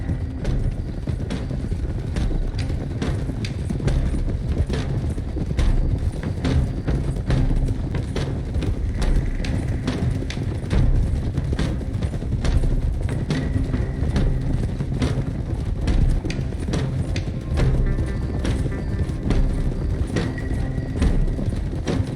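Horses' hooves clip-clop steadily in Red Dead Redemption 2, a dense, continuous run of close hoofbeats from several mounts moving together, with faint rattling gear underneath.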